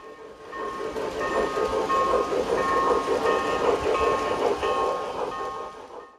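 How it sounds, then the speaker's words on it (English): A passenger train rolls steadily along the rails on a bicentennial run, a continuous rumble with faint wheel clatter and metallic squeal that holds for several seconds before easing off. "ride on a passenger train which ran for the first time ever as a part of the bicentennial celebration"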